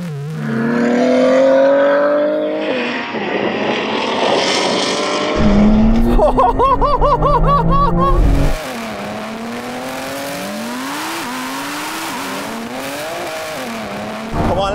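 A Lamborghini Revuelto launches hard in a drag race against an M3 Touring and an R8. Its engine note climbs loudly and close by in repeated rising sweeps, with quick upshifts and a heavy roar at full throttle.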